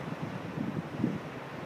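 Big ocean waves rolling in on a bitterly cold day while surfers wait offshore, a steady low rumble of surf mixed with wind buffeting the microphone, with a couple of heavier surges.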